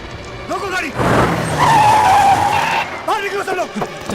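A car skids to a sudden stop in a tense Mumbai gangster film scene, a long tire screech rising over engine roar, with voices talking and shouting before and after.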